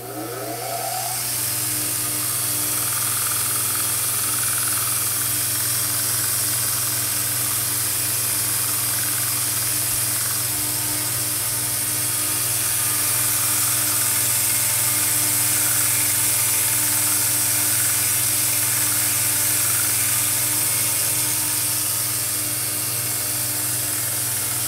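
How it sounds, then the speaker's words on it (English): Belt sander running on a knife blade, a loud continuous mechanical whir with a fast rhythmic flutter from the belt, starting up and holding steady close by for the whole stretch, no talk. "Now we're just going to take the belt sander and clean it up."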